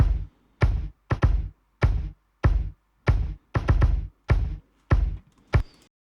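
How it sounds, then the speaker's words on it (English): Three layered kick drum tracks recorded on an iPhone, including a quieter ghost-note kick, thump in a loose rhythm of about a dozen close, punchy, loud hits with short decays and silent gaps between them. "I have a group here with 3 kick tracks."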